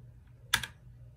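A quick double click from pressing a computer keyboard key programmed to auto-type text, close and crisp against a quiet dorm room background.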